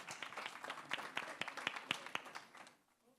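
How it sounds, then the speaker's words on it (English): A small lecture audience at a physical therapy talk on lower back pain gives a brief, faint round of applause, distinct individual claps that quickly fade out. "Give him a round of applause."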